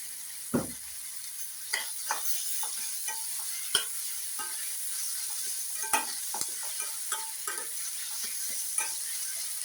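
Tomato with salt fries in a pan for brinjal bharta. A steady, close sizzle runs throughout, punctuated by the scrapes and taps of a spoon stirring.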